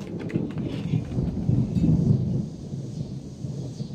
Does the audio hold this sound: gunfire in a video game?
no